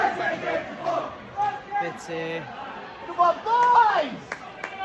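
A large stadium crowd of Scottish football fans at a Morton versus Accies match chants and sings together, voices rising and falling in a loud, echoing roar with scattered shouts.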